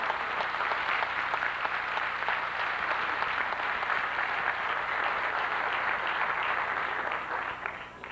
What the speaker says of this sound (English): I think you deserve yourselves a round of applause.